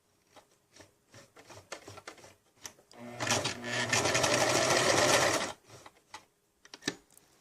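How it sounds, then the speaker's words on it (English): A sewing machine runs a buttonhole stitch across a zipper stop, with a few soft clicks and taps before a steady burst of rapid mechanical stitching for about two seconds, then more light handling clicks, close and fairly quiet. "I use a buttonhole stitch to keep the zipper from coming apart"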